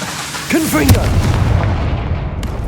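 Confringo, a blasting spell in Hogwarts Legacy, sets off a loud, close explosive boom, followed by a crackling, rumbling decay, with a voice heard just before the blast.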